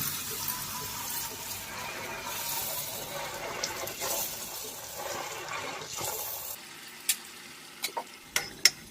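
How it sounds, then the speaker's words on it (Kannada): Rice vadas sizzle in hot oil in a kadai, a steady bubbling fry hiss that drops away near the end, leaving a few sharp clinks and taps. "ಒಂದೊಂದೇ ವಡೆಯನ್ನು ಎಣ್ಣೆಯಲ್ಲಿ ಹಾಕಬೇಕು"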